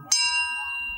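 A single sharp strike on a piece of Bronze Age metal rings out with a bright, bell-like tone that sustains and slowly fades over a low, faint background rumble.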